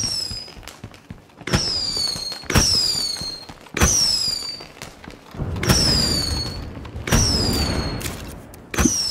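Rolls of firecrackers burst in State of Decay 2, with about six loud crackling volleys, each opening on a sharp bang followed by rapid popping and high whistling streaks, spread over several seconds.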